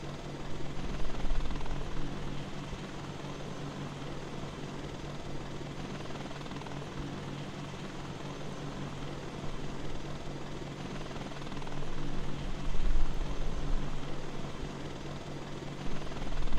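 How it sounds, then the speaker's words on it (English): Chinook CH-47 twin-rotor helicopter in flight in the video game DayZ, a continuous low droning rotor and engine hum with slight swells in loudness, steady throughout. "This has been my first flight in the Chinook."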